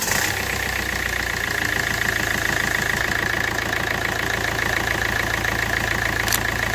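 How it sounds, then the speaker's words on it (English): A Kia 1.6 CRDi D4FB diesel car engine idles steadily up close, a continuous low knocking rumble with a faint clatter, running unchanged throughout. "start the engine"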